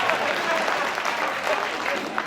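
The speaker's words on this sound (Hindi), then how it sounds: "अध्यक्ष जी ताली बजा रहे हैं, पुष्टि कर रहे हैं।" Audience at a Hindi poetry gathering claps in a steady, dense burst of applause, fairly close and loud, with crowd murmur mixed in throughout the short stretch.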